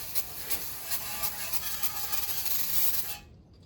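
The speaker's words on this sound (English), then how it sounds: "First spray is going to be kind of like a macro spray." An aerosol spray can hisses steadily and close up while coating truck transmission parts during a 6L80 swap, with a few quick pulses before the spray cuts off.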